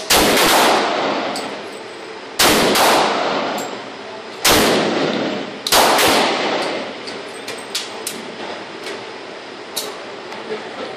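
Four loud, close shots from a Benelli M4 Super 90 shotgun or IMI Tavor TAR-21 rifle fired outdoors, spaced a couple of seconds apart, each a sharp blast ringing out into a long decaying echo, with smaller clicks and knocks afterward.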